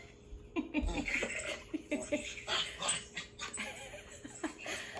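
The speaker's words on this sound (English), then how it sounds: "A very, very playful dog" A very playful dog barks and yips in quick, excited bursts nearby, with some whimpering. Muffled human voices and laughter mix in beneath it.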